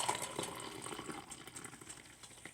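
Hot water pours steadily into a cup for detox tea, a soft continuous splashing trickle that slowly tapers, faint and close with no voices.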